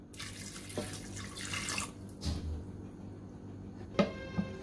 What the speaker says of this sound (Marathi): चणे बुडतील एवढं आपल्याला पाणी घालायचं आहे